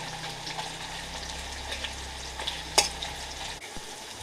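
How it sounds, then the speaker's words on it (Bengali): Bay leaf, whole cumin, onion and dried chilli hit hot oil left from frying potatoes, giving a close, steady crackling sizzle with a few sharp clinks of utensils. "আলু ভাজা তেলেই আমি ফোড়ন দিয়ে দেবো। তেজপাতা দিছি, গোটা জিরা দিছি, পেঁয়াজ দিছি, শুকনো লঙ্কা দিছি"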